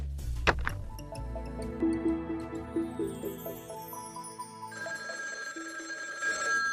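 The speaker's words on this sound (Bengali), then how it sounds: "এই সকালে আবার কার ফোন?" A telephone rings in a repeated, evenly spaced pattern inside an animated cartoon scene. A sharp knock opens it, and background music and effects play throughout.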